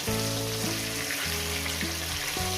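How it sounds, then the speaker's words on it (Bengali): Rohu fish pieces frying in hot oil, a loud, dense, continuous sizzle close up, with a steady low hum underneath and no voices. "এখন আমরা বন্ধুরা মাছগুলো ভেজেই দিচ্ছি"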